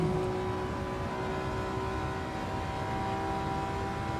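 A VTEC-engined car in a racing video game holds a steady, loud engine drone throughout, with a constant whine over dense broadband road and engine noise and no breaks.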